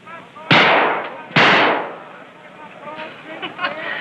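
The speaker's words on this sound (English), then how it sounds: "That's nice shooting, mister." Two sharp, loud gunshots crack at a shooting gallery in an old Western setting, each followed by a brief decaying echo, with faint voices and background murmur afterward.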